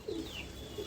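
Andhra pigeons, a closed-tail breed, coo softly in a brief low throaty call that repeats once near the end of the second, close but quiet, with no talk.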